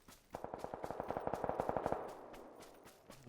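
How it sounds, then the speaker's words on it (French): Rapid automatic gunfire from the battle royale video game PUBG, a steady burst of about twenty evenly spaced shots over under two seconds, fairly close and loud, then fading into quiet background. "Là, ça tire par là."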